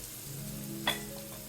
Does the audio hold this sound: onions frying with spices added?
yes